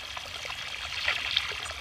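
Water pours and trickles into a gravel basement waterproofing drainage system, a continuous splashing flow heard close up with no talking.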